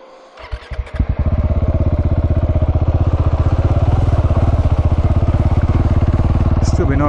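A KTM 690 Enduro motorcycle fires up and settles into a loud, close, rapidly pulsing single-cylinder thump at a creek crossing, with talk alongside.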